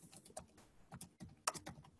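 Keystrokes on a computer keyboard, a quiet run of irregular clicks with short pauses between bursts, close and alone with no talking.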